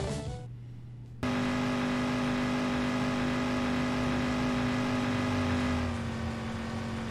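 Car engine from GTA Chinatown Wars roars loudly and steadily as the vehicle drives fast, holding a sustained drone after a brief quieter start, with no talk.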